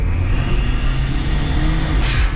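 Daihatsu Mira kei car engine while driving, a steady droning hum with road noise inside the cabin, loud and continuous.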